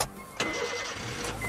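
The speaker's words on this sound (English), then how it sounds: "May has already got her engine started" Car engine cranks briefly and catches, then settles into a low idle; the start is quick and fairly faint, with a second short burst near the end.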